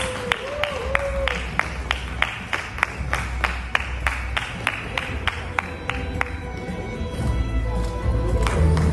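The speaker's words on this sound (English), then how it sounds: "Can we have a louder round of applause?" An audience applauds at an international awards ceremony in Dubai, a moderate, continuous patter of clapping heard from a middle distance, with sharp individual claps standing out and a voice over a sound system speaking at the start.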